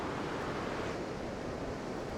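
Ocean waves wash in at the beach as a continuous, faint broadband roar of surf with no voices.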